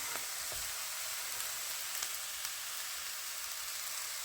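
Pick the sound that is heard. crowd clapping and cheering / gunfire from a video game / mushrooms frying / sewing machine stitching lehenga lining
mushrooms frying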